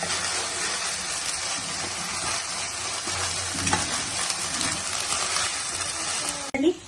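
Ginger garlic paste fries in oil in a pan for prawn biryani, giving a steady, close, dense sizzle throughout with occasional stirring scrapes and a brief clatter near the end.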